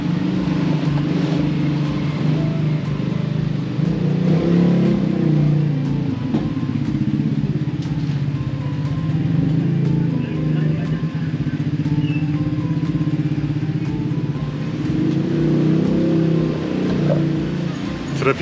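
Busy morning street traffic in Ubud, Bali, with a dense, continuous rumble of motorbikes and cars passing close by, engines buzzing and revving at an even loudness throughout, with voices in the background.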